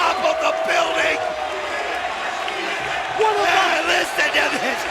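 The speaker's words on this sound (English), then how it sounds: "Listen to this crowd." A wrestling arena crowd roaring in a steady, loud wash of cheers and shouts after Jeff Hardy's high dive off the top of a structure in a Full Metal Mayhem match, with louder swells toward the end.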